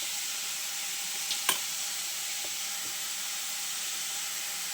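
Garlic, tomato and onion cook in a pan, giving off a steady, soft hiss of frying with a couple of brief stirring clatters near the start.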